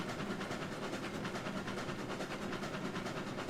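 A freight train rolls along the rails in the Railroads Online simulation, a steady, loud rumble with rhythmic clacking running unbroken throughout, no voices.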